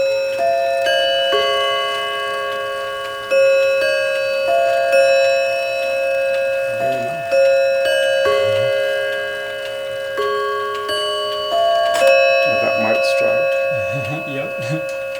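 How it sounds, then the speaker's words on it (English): Sonora chime bells ring in a slow melodic sequence inside a jewelry store, each tone sustaining and overlapping the next, loud and resonant, with voices briefly talking underneath. "This is sonora bells."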